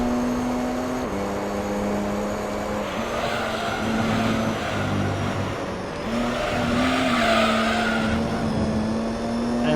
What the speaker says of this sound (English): we get some kind of oversteer as it slides around a lot